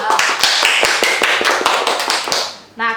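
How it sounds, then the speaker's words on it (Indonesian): An audience of new university students clapping together, a fast run of close, crisp claps that fades out near the end, with a brief tone after. "Tepuk dulu."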